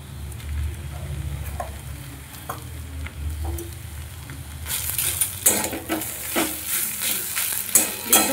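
Fish cutlet mixture with mashed boiled potato stir-fried in a pan, with a low steady sizzle and utensil scrapes and clinks that grow louder and busier partway through.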